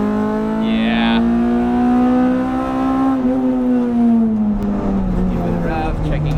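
K24-swapped Honda Civic EP3 Type R on the Nürburgring, engine note holding steady then sagging slightly, with a sharp higher rev blip near the start and again at the end, loud and close inside the cabin.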